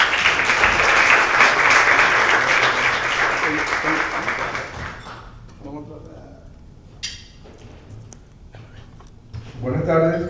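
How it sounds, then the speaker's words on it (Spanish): An audience at a legal lecture gives a loud round of applause for a professor, dense clapping that fades away midway, followed by quieter room sounds and some speech near the end. "Pido un fuerte aplauso"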